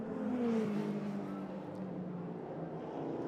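Historic racing cars running behind a safety car on a circuit, a continuous engine drone with one car passing close early on and then easing into a steady, moderately distant hum.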